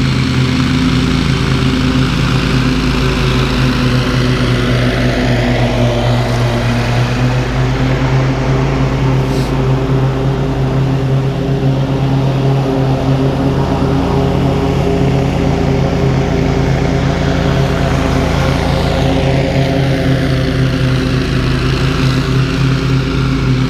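A gas leaf blower engine stuck at full throttle because the throttle control has failed, droning loud and steady at one high pitch for the whole stretch with no letup.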